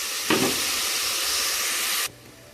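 Chicken pieces cooking in a hot pan give off a loud, close hissing sizzle that rises sharply, holds steady for about two seconds, then drops to a quieter simmer.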